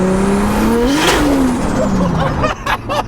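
A 2JZ-powered Lamborghini drift car accelerates hard, its engine rising in pitch through a pass with tire squeal, loud and close, before a few sharp pops near the end.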